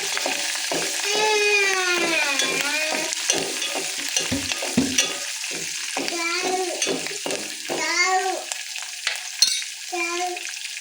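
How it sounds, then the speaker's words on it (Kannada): Dried red chillies, cut up, stirred and frying in hot oil for a tempering with curry leaves; steady sizzle runs throughout, close and moderately loud, with a voice talking over it. "ಒಣಮೆಣಸಿನ್ಕಾಯಿ ಕಟ್ ಮಾಡಿರುವಂಥ ಒಣಮೆಣಸಿನ್ಕಾಯಿ, ಮಿಕ್ಸ್ ಮಾಡ್ಕೊಳ್ಳಿ."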